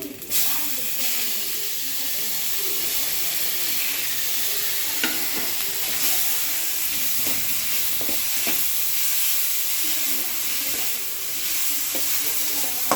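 Chopped tomatoes sautéing in a pan with ginger and garlic for egg noodles, a loud continuous hiss and sizzle up close, with a few faint spatula taps and scrapes.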